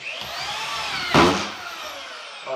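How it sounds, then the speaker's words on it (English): A deck screw gun driving a screw into wood layers, a steady high whine with one loud surge of motor and grinding as the screw bites, close and alone. "This is a special screw gun. It's a deck screw gun."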